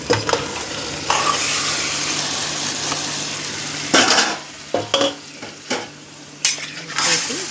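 Tomatoes and mutton gravy go into a hot pan for Andhra-style mutton dum biryani, with a steady sizzle and frying hiss throughout and several bursts of louder spattering and stirring toward the end.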